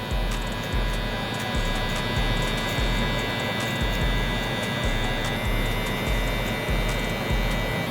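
Electric hair trimmer buzzing steadily and close up, flipped upside down on its blade during a buzz cut mid-low fade, with a constant hum and a faint rhythmic pulse and no talking.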